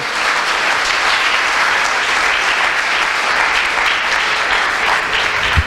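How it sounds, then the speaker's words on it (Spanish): A church congregation applauds in a thick, continuous wash of clapping, loud and unbroken from start to finish, with one sharp thump near the very end. "Aplauda a Cristo, hermano."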